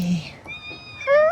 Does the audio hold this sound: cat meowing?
yes